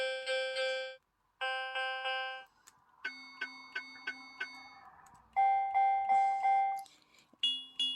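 Several short electronic keyboard passages in six different piano voices, each a quick run of repeated notes separated by brief pauses, played softly with no talking.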